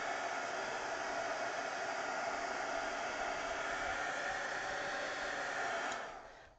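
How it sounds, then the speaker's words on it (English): A heat gun drying a craft project gives a steady, even blowing hiss for about six seconds, then cuts off and fades away. Close and alone, with no talking. "Maybe a quick hit with the heat gun."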